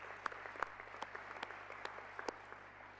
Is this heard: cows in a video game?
no